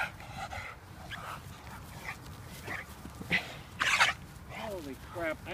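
A dog whimpers and yips during a dog test while people talk close by, with its sharper cries rising briefly above the voices toward the end.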